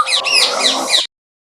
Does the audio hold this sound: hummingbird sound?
yes